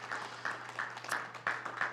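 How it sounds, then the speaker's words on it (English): Church meeting audience clapping, a scattered patter of hands at modest volume with a few sharper bursts of claps rising and falling over a low steady hum in the room. "I just want everybody to clap for that"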